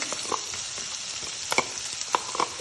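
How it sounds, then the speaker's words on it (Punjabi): Chopped onions frying in a pan while being stirred steadily, a continuous sizzle and hiss broken by scattered utensil scrapes and taps, close and alone with no talk. "ਆਪਾਂ ਹੁਣ ਇਹਨਾਂ ਪਿਆਜ਼ਾਂ ਨੂੰ ਭੁੰਨ ਲੈਂਦੇ ਆ ਲਗਾਤਾਰ ਹਿਲਾਉਂਦੇ ਹੋਏ ਆਪਾਂ ਇਹਨਾਂ ਨੂੰ ਭੁੰਨ ਲੈਣਾ"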